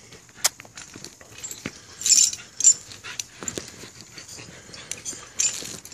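A young pit bull puppy at a kennel gives short whimpers and wheezy yelps in scattered bursts, close and fairly quiet, with a few louder sharp cries.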